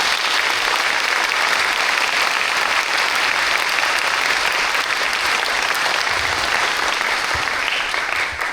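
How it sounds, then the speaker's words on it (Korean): Warm, sustained applause from an audience at a lecture and talk event honoring a former constitutional court justice, dense steady clapping filling the room throughout with no voices over it. "재판관님께 따뜻한 박수 부탁드립니다."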